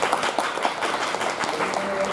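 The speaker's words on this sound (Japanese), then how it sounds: "拍手お願いします。" Audience at a tech conference session clapping to welcome a speaker, a brief burst of applause from a modest crowd, fairly close, with a voice briefly audible over it.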